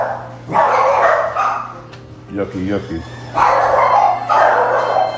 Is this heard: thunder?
no